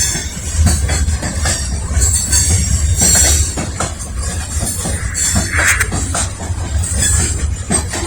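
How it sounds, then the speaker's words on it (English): An Amtrak Northeast Regional passenger train rumbles past nearby in Lynchburg with a steady low roar, rattling cars and occasional wheel squeal, continuous throughout with no talking. "You'll probably see the Amtrak train come in first."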